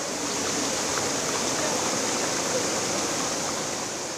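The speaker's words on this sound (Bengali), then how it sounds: "ভাঙা বাদ দিয়ে হু করে ঢুকছে পানি" Floodwater rushes through a breached embankment in Parshuram and Fulgazi, Feni, as a steady, loud, unbroken roar of churning water filling the whole clip with no voices.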